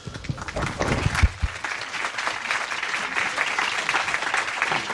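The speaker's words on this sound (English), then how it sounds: "let's give Paul a round of applause" Audience applause for a composer at his talk before a second movement is performed, moderate steady clapping from a seated crowd over five seconds with a brief louder burst early on.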